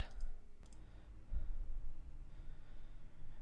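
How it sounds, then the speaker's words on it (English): Computer mouse clicks while starting a Tomcat server, two sharp close clicks near the start over a quiet background hiss. "So I just right click on it"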